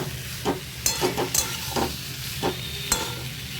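Spices being stir-fried in a pan for a vegetarian potato, pointed gourd and pumpkin curry, with a low steady sizzle broken by several sharp scraping strokes of a spatula against the pan, close by.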